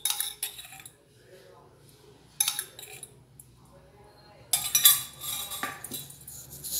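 Metal kadai pan being set on a gas stove, with several bright clinks and clatters in short bursts separated by quiet gaps, close and fairly soft.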